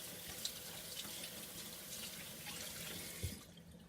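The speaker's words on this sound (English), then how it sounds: "let me wash my hands." Faucet water running into a sink during handwashing, a soft, steady stream close by that stops abruptly near the end.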